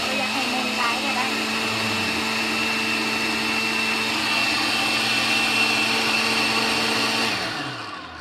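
An electric blender grinding blanched ingredients for Lao laab, running as a steady high whine with a droning hum before spinning down at the end.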